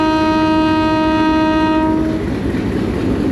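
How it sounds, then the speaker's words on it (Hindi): A Rawalpindi passenger train pulls away from the platform at Saray station, a loud sustained horn blaring for about two seconds before cutting off, leaving the steady rumble of the moving carriages. "आप ये देख रहे हैं कि प्लेटफार्म से अब मूव हो गई है।"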